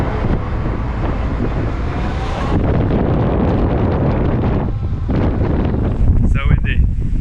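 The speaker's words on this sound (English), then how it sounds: "So windy." Strong wind buffeting the microphone on an exposed coastal headland at Cape Reinga in New Zealand, a loud, continuous roaring rumble with gusty surges and no pause.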